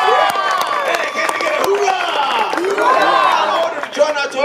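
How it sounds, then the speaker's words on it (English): Children at a lively group event cheer, whoop and shout over scattered clapping, loud and close, with excited voices layered throughout. "Give a man a nice big round of applause."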